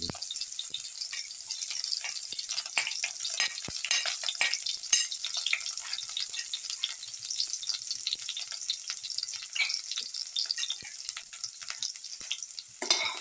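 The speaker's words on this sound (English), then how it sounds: "Once the mustard seeds start popping, put in the shallots." Shallots sizzle steadily in hot oil while mustard seeds crackle and pop in scattered sharp bursts, close up and continuous throughout.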